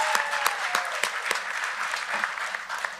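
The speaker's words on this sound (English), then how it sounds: "Let's give the Chancellor another round of applause." Steady audience applause for the Chancellor at a university medical centre commissioning ceremony, a full round of clapping with a few sharper individual claps standing out near the start.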